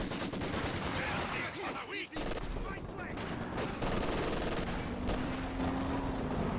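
Grenadier Kar-98 rifle fire in the video game Company of Heroes 2 crackles amid busy battle gunfire and explosions, with someone talking over it.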